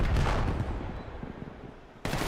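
Grenades and gunfire from a Call of Duty League Major III match. A loud burst opens the moment, sustained rumbling gunfire decays after it, and a fresh blast hits near the end.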